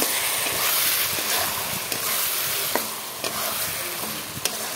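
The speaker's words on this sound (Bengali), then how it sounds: "তেজপাতা সব কিছু একসাথে তেলে দিয়ে লাল করে ভেজে নেব।" Bay leaves and spices fry in hot oil with a loud, continuous close sizzle, broken by a few sharp clicks of stirring against the pan.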